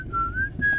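A person whistles a single sustained note that rises slightly in pitch, breaks off briefly, then resumes, heard close up inside a car while driving at night in Los Angeles over a steady low engine and road rumble.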